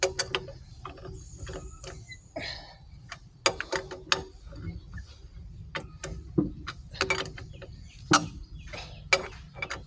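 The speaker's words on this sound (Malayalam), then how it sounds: "എതിർ സൈഡിലെ നട്ട് വേണം ടൈറ്റ് ചെയ്യാൻ." A ratchet wrench tightens car wheel nuts, working through a long run of sharp clicking ratchet strokes and metallic clanks, close and uneven in rhythm, with brief pauses between bursts.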